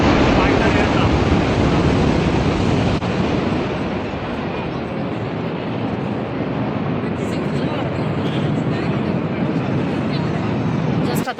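A fighter aircraft flypast salute near the Sheikh Zayed Grand Mosque in Abu Dhabi gives a loud, sustained jet roar that slowly eases, with wind buffeting and some talk around it.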